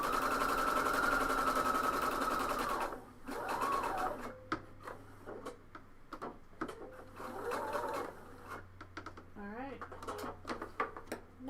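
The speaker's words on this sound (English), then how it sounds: "I'm just going to stitch about 1/4 of an inch." A sewing machine runs steadily while stitching a coat, then stops; a voice talks through the rest alongside small handling noises.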